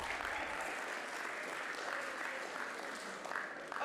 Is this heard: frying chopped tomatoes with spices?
no